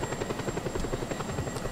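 A big helicopter in Just Cause 2 gives off a rapid, even rotor thumping with a thin high whine above it, steady and close throughout, with no talking.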